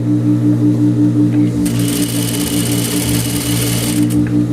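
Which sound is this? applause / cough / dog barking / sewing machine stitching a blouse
sewing machine stitching a blouse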